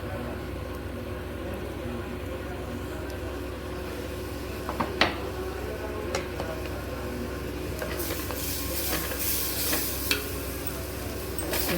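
Cooked jowar dish ingredients frying in a pan: a low steady sizzle with scattered scrapes and clinks of stirring, spaced irregularly, close by and moderately quiet.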